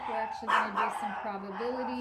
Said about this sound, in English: I really apologize for the dogs.